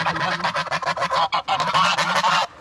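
Geese at a small farm zoo honk in a rapid, loud run of close calls, overlapping harsh cries repeated steadily for a few seconds before stopping abruptly.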